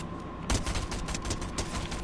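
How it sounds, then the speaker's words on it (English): Gunfire in the Fortnite video game: a rapid, loud burst of shots starting abruptly and continuing as a dense rattling volley, close and dominant throughout. "there's somebody shooting apparently"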